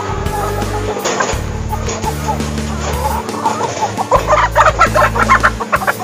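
Laying hens clucking in a coop, a busy mix of close clucks and squawks over low rumbling noise, under occasional voices.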